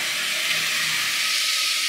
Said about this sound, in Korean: 북어를 좀 볶아줄 겁니다. 무도 같이 넣어주세요.